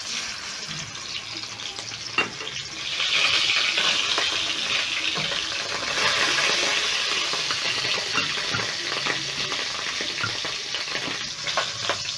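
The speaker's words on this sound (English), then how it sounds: "I am going to be placing my short ribs in my pot and sear my ribs." Beef short ribs searing in a pot, fried in batches, give a steady close sizzle and crackle with a few sharp pops, swelling louder after a few seconds and holding at that level throughout.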